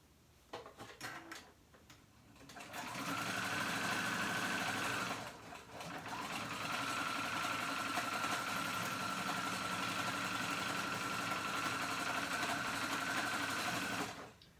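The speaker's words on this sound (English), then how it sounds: "I'm gonna just use a zigzag stitch and go back and forth" A sewing machine runs a zigzag stitch to join overlapped 2-inch elastic, whirring loud and steady for several seconds, pausing briefly, then resuming until it stops; a few soft handling knocks come first.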